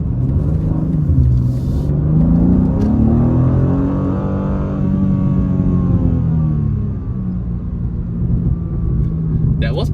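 2023 BMW M2 with its turbocharged S58 inline-six accelerating in M2 mode, a loud, sustained engine rumble whose pitch climbs and falls through gear changes from inside the car, with a voice speaking over it.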